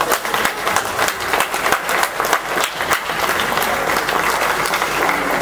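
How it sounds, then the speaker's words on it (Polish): A crowd claps for the GKS Korsarz Gdańsk basketball team at an under-14 tournament awards ceremony, the applause starting as distinct, ragged claps and then thickening into a steady, continuous wash that lasts for several seconds. "Brawa za walkę!"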